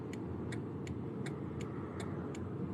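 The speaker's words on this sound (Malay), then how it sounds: "Agak banyak kereta ni." Steady road rumble from a car driving through traffic, with a faint regular ticking, likely a turn signal, repeating evenly throughout, no talking.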